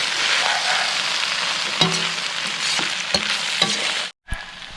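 Chilli soya with vinegar is stirred in a hot pan, giving a close, steady hiss of frying with several scraping strokes of a spoon, then a brief silent break before the sizzle resumes, with no voices.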